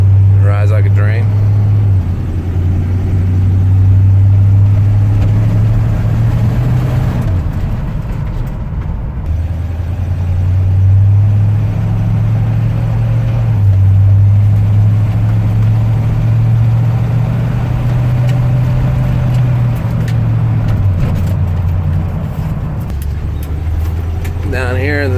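A 1974 Chevy K10 pickup with a 350 and a 3-speed drives along, its engine a steady low rumble that swells and eases through the run, with someone talking over it much of the time.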